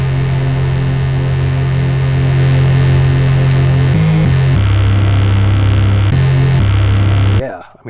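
A wavetable synth on a Liven Bass & Beats plays a sustained, buzzy low drone through a low-pass filter with distortion, loud and continuous, with its pitch stepping down and back up before cutting off at the end.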